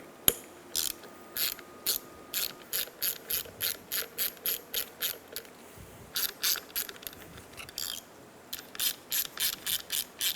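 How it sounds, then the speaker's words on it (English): Screws being removed from the window motor of a 2000-2006 Toyota Tundra window regulator assembly with a T25 Torx ratchet: rapid, evenly spaced clicking bursts close by, pausing briefly mid-way before resuming. "Using a T25, remove the 3 screws for the window motor."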